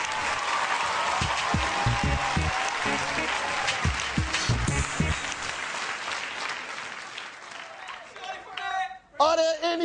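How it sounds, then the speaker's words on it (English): Applause and cheering from a live poetry audience, loud and sustained from a crowd for several seconds. It fades out toward the end as a few voices and isolated claps remain. "Please give it up for my brother Ras Baraka"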